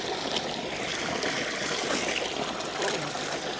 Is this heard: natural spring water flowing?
yes